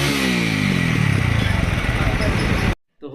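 A TVS Apache 200 motorcycle runs with its silencer holes welded shut, giving a loud, close, throbbing engine and exhaust note that cuts off abruptly near the end.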